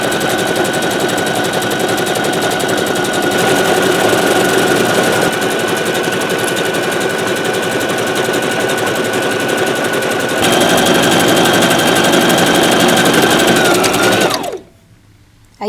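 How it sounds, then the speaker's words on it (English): A sewing machine stitches a decorative pattern on a canvas tote in one loud, continuous mechanical rattle lasting several seconds, its rapid needle chatter shifting slightly in tempo before stopping abruptly near the end, with no talking. "The easiest way to sew a straight line with a decorative stitch is to line that purple line that I drew right with the center of the foot"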